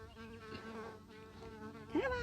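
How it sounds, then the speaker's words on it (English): A bee buzzes outdoors near a lake, a steady insect drone with harmonic whine that wavers in pitch and swells briefly louder near the end. "This bee was not excited about that."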